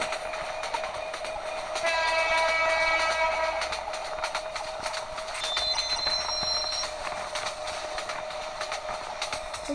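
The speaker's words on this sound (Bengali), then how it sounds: "ট্রেনটা এখন অনেক স্পিডে চলতে যাচ্ছে।" Subarna Express train in Train Simulator Bangladesh gathers speed, a steady rolling rumble broken by two loud horn blasts, near and alone.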